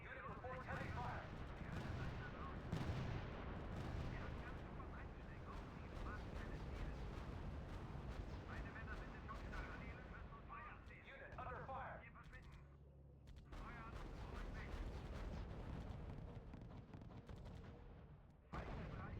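Artillery fire in the strategy video game R.U.S.E: rolling booms and rumbling blasts layered over continuous battle noise, loud and dense, with a voice talking over it at times.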